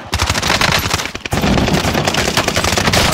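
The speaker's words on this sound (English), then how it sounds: "I'm taking fire here." Rapid automatic gunfire in Modern Warfare multiplayer on Rebirth Island, an MP5 rattling in dense continuous bursts, loud and close, with a brief gap near the middle before the firing resumes.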